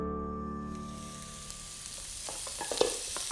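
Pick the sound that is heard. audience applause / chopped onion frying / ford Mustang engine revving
chopped onion frying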